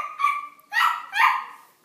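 A small dog gives three quick, high yappy barks close by in a home, each short and sharp with brief gaps between them.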